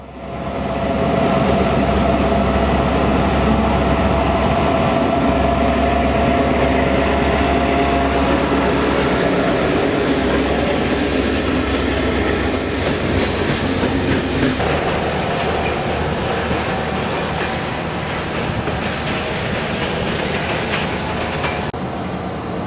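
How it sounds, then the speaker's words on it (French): A regional train in Croatia, near a junction on the line toward Split and Šibenik, rumbles loudly and continuously with rhythmic clickety-clack of wheels on rail joints, some metallic squeal and a shift partway through. "Nous croisons un train régional pour Split et un autre pour Šibenik."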